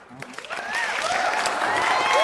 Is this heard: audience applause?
yes